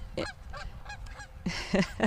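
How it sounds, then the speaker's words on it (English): A friendly goose at a botanical garden honks close by in a rapid series of short, nasal calls, about six in two seconds. The calls grow louder and more clipped toward the end, over faint outdoor background. "Friendly Goose is coming for a visit."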